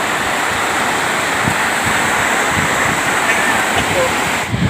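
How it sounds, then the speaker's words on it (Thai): Strong incoming tide on a sandy sea shore, with waves surging steadily in a loud, continuous broadband wash and wind buffeting close to the microphone throughout. "น้ำเริ่มขึ้นแรงแล้วครับ"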